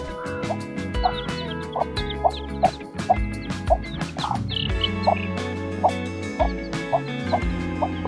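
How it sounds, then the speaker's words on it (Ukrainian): A hen clucks in regular soft bursts while chicks peep in high thin chirps around her, close by and continuous. "Це мама курка та її діточки."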